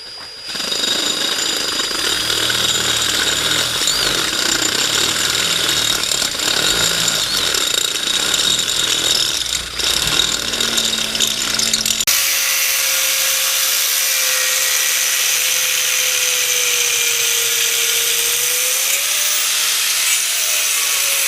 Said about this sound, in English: we marked it down there so we can drill a hole into it so Dan can weld the bung on.